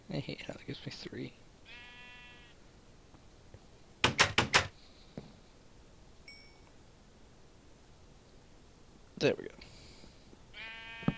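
Sheep bleat twice in Minecraft, short and clear at the start and again at the end, between quiet game clicks and door-like knocks. A voice speaks softly near the beginning.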